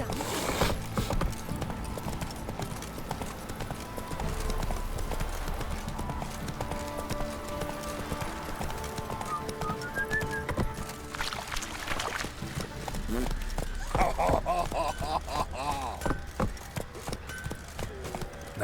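Hooves of Roach, a horse in The Witcher 3 video game, clip-clop steadily under a dense game soundtrack and ambience, with occasional louder swells near the end.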